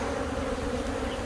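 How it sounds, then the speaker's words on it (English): Honey bees drone in a steady, dense buzz during a bee removal from a hive box. The sound stays loud and close, with no pauses and no voices. "Here's the box, and there's the bees."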